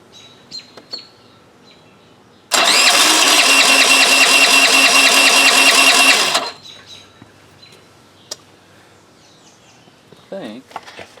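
A 1983 Honda Elite scooter engine, pulled from a scrap pile, runs in a loud close buzzing burst of about four seconds, then cuts out, leaving faint chirps and small noises.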